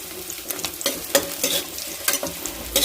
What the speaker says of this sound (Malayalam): ഇനി ഇതെല്ലാം കൂടി നമുക്കൊന്ന് വാട്ടിയെടുക്കാം.